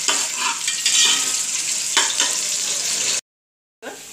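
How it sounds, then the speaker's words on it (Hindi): Chopped onions fry in hot oil in a pan, a steady broadband sizzle with stirring scrapes for about three seconds, then a brief silence before the sizzle resumes; no talking. "अब प्याज को मैं गोल्डन करूँगी"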